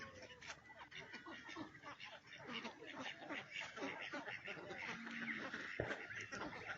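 Cartoon ducks belonging to a farmer quack in quick, repeated bursts at moderate loudness, with voices and background sound mixed underneath.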